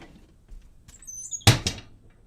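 An indoor door swings shut with a solid thunk, followed by a second softer knock and faint rattle, close by in a quiet room.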